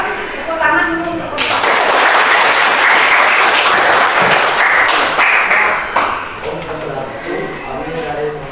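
A classroom bursts into applause, many hands clapping loudly and steadily for several seconds before tapering off, with voices murmuring underneath.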